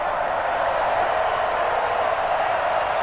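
A stadium crowd in the football game Madden NFL 21 gives a steady, broad cheering roar with no distinct peaks. Wide and moderately loud, it carries on alone without clear speech.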